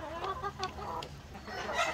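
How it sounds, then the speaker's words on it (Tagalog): Chickens cluck in short, busy bursts close by while eating at a farm, several birds overlapping in quick repeated calls. "Ito yung mga manok natin mga ka-farmers."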